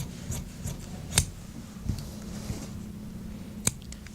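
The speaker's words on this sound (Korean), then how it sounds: "가위 넣지." Scissors cut small notches into trouser fabric during cutting-out, a few sharp isolated snips spaced apart over a quiet background of faint rubbing and handling, with no voices.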